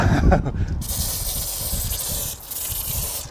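Loud hissing bursts of liquid cleaner sprayed onto a hybrid car engine, close by, with a brief pause before another spray continues.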